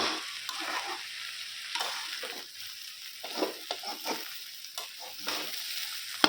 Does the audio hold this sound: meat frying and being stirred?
yes